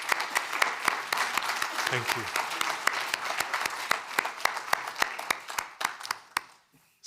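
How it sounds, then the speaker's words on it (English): A conference audience gives a round of applause, distinct individual claps in a quick, steady rhythm that thin out and fade toward the end, while a voice speaks briefly near the start. "One more round of applause."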